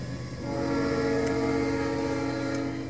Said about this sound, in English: It's Harvey, the train.